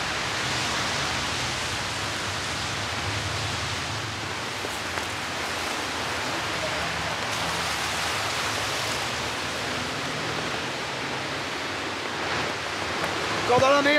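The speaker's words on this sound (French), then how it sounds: "Le temps est exécrable, cela fait 2 semaines qu'il pleut 1 jour sur 2." Rain falls steadily near Porte d'Orléans in Paris by the périphérique, a dense continuous hiss of drops on surfaces that stays even and fairly loud for the whole stretch.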